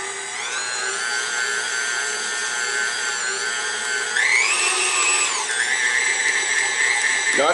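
Electric hand mixer whirring steadily as it beats almond cookie dough, a sustained motor whine that shifts pitch upward midway and then settles, close and loud with no voices.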